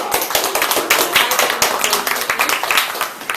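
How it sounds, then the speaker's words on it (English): A small Toastmasters club audience claps to welcome a speaker to the floor, a close, uneven patter of separate hand claps from a modest group that goes on for a few seconds without speech. "let's give a warm welcome and applause to our speech number 3 speaker"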